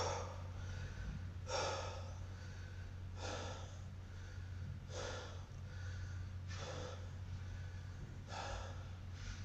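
Deep, forceful breaths drawn in and pushed out at a strongman training session before a heavy lift, about six loud, noisy bursts spaced a second or two apart over a steady low hum.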